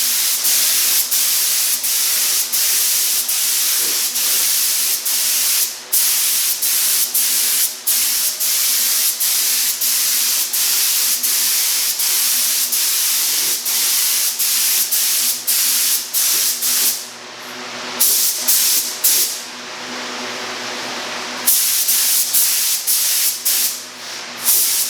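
Spray gun laying a gloss coat onto a 3D-printed Dark Trooper helmet, a loud, continuous close hiss broken by brief pauses and one longer gap partway through.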